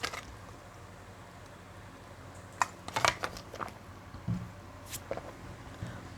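A tarot card deck is shuffled close by, with soft intermittent riffles, flicks and light slaps of cards over a quiet background, no speech.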